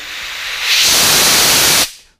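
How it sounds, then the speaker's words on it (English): Compressed air hisses hard out of a Harbor Freight powder coating gun, a loud steady blast that swells up in under a second, holds for about a second and cuts off sharply. "Way too much airflow coming out of this gun."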